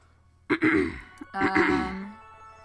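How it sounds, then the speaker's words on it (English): A person with a cough clears their throat twice, raspy and close up, with a brief pause between the two efforts. "Sorry if I'm clearing my throat or if you hear me cough"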